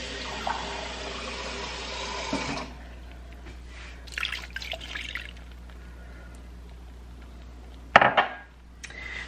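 Liquid poured into a slow cooker while making a home-cooked dinner, a steady broadband pouring rush for the first few seconds, then quieter clinks and handling noises with a brief sharper clatter near the end.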